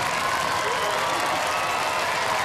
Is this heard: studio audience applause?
yes